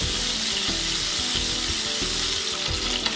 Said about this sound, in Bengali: মাছগুলোকে মিডিয়াম করে ভাজবো